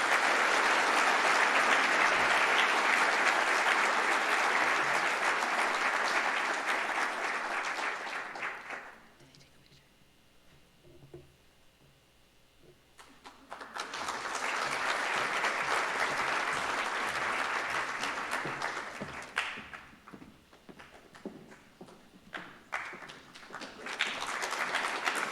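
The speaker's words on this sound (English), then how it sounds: "Can we all give these volunteers a big round of applause?" Two long swells of applause at a youth recognition awards evening: a dense round of clapping that dies to near quiet, then another burst that tapers into scattered claps and murmur.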